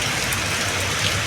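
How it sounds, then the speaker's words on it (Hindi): Heavy rain pours down outside a bank where people wait in a queue, a dense, steady hiss filling the air evenly from start to finish, with no voices audible. "यहाँ बारिश चालू होगी एकदम"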